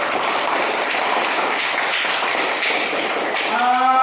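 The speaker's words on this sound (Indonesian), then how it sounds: "Kasih tepuk tangan untuk kelompok 1." Classroom applause for a student group after a presentation, a steady patter of clapping throughout, with a voice starting to speak near the end.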